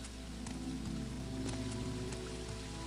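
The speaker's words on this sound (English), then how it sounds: "Because I'm hearing water." Water flows and patters in a Morrowind game environment near a possible sewer, a faint, steady splashing wash with scattered drip-like ticks under a low background hum.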